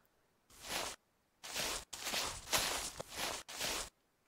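Five footstep sounds from a customizable footstep system in a Unity game demo, walking on a sand and snow surface, each a soft, crunchy broadband step in an uneven walking rhythm, close and moderately loud with short silences between.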